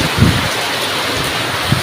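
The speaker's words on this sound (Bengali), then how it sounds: "বৃষ্টি বাই নেক্সট লেভেল মানে এরকম বৃষ্টি কোনোদিন কোথাও আশা করিনি" Dense, steady hiss of heavy rain pouring continuously, with a couple of low thumps.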